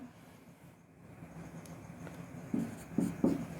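Marker or chalk writing an algebraic expression on a board during a lesson, heard as a few short scratchy strokes near the end over quiet room noise.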